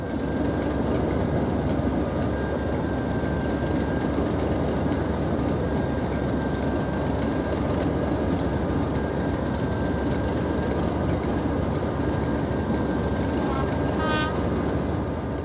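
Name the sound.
Class 55 diesel locomotive hauling train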